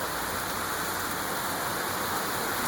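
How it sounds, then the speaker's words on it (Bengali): Heavy downpour in a city during several days of monsoon rain, a dense, steady hiss of rain pouring onto surfaces, loud and continuous with no voices. "এভাবেই গত ৩-৪ দিন থেকে মুষলধারে বৃষ্টি ঝরছে।"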